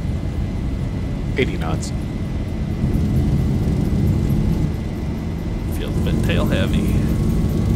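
A Boeing 737 in a flight simulator roars steadily at takeoff thrust during the runway roll, a loud unbroken engine rumble beneath a pilot calling out speed.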